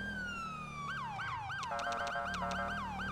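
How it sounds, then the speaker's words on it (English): A nearby ambulance siren in Grand Theft Auto V sweeps from a long falling wail into quick repeating yelps, loud and continuous over a low engine drone. "there is the ambulance there, blaring the siren"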